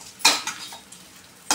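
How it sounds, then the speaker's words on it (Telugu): Spoon scraping and clinking against a pan while stirring okra fry, a few sharp metallic strokes spaced apart over a faint sizzle, with no talk. "బాగా కలుపుకోండి అంత పట్టేలాగా."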